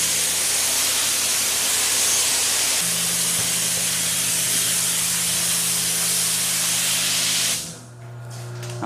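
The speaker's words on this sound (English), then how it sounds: "Let's freaking spray this thing out." Steady, loud hiss of water spraying from a hose while cleaning out a CarCapsule car storage enclosure, running continuously for several seconds before cutting off near the end, with a low hum underneath.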